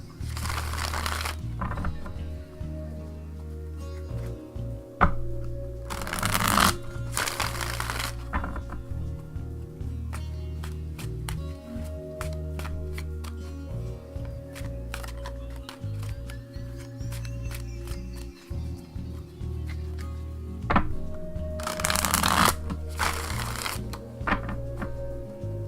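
A deck of tarot cards shuffled by hand, repeated riffling bursts and soft card slaps spread over a steady low hum, close and quiet, with no talk.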